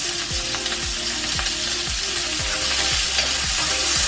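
Prawns stir-frying in a hot pan, a steady loud sizzle with rhythmic scraping and clattering as they are tossed and turned, roughly twice a second, with no voices.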